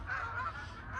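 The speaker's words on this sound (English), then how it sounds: "we've got a flock of geese just flying by" A flock of geese honks while flying over the UK countryside, a brief overlapping chorus of calls heard at moderate distance over a low rumble.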